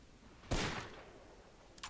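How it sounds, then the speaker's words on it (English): In the Project Reality video game, a single gunshot cracks out as a loud broadband burst with a short decaying tail. A smaller, sharper report follows about a second later, with quiet background between them. "I'm getting shot at from the west side of patrol facility."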